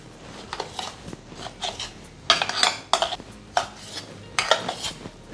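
Ground dal and spices stirred and sautéed in a pan, a run of metallic spoon scrapes and clinks against the pan in uneven bursts, close and fairly loud, with no talk.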